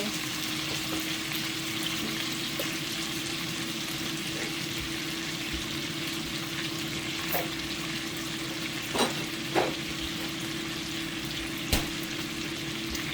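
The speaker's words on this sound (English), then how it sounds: "We want our onions to caramelize. We want the potatoes to be nice and fried and brown." Potatoes and onions fry in a pan with steady, even sizzling that runs throughout. A few sharp clicks or taps stand out near the end.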